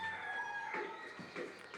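Chickens on a small tiger chicken farm, a flock of about 20 birds. A rooster's drawn-out crow rings out at moderate distance, followed by a few soft clucks.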